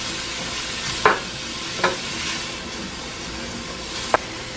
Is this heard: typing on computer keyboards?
no